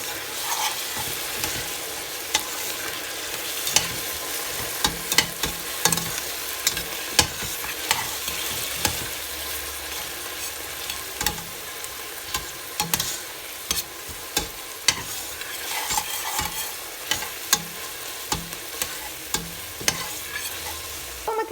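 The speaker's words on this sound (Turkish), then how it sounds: "Bu aşamada domateslerimizi de ekliyoruz kavrulması için. Ve güzelce kavuruyoruz" Tomato paste and chopped tomatoes fry in a pan for a green bean and potato stew, producing a soft, steady sizzle punctuated by regular clacks of a spoon stirring and scraping.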